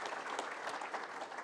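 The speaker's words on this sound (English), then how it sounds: "Let's give a round of applause to all the panelists today and those online." Brief, soft applause from a forum audience for the panelists at an energy forum, steady scattered clapping heard at a distance throughout the short stretch.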